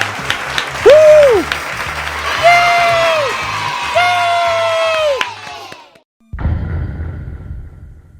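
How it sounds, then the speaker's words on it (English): Crowd applause and cheering with whoops mixed with a game's melodic tones and sliding electronic notes, loud and busy, then a sudden drop before a rougher burst of crowd noise resumes. "let's all give it a round of applause"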